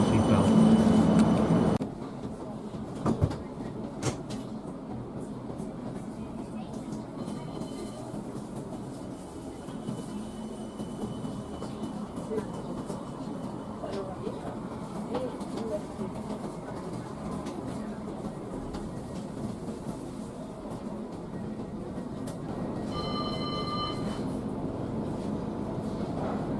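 A Birmingham Metro tram rolls toward the city centre with a continuous low rumble and rattle heard from on board, and a short electronic chime sounds near the end.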